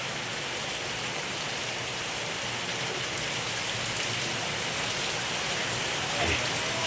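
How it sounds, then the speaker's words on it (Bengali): Steady, dense rain pours down continuously, a broad hiss filling the whole clip with no pauses and no voices. "প্রচুর প্রচুর বৃষ্টি হচ্ছে"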